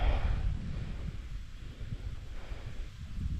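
Wind blowing across a microphone on a riverbank during fishing, with low rumbling buffets and gusts that are strongest at the start, then ease and swell again, and no talking.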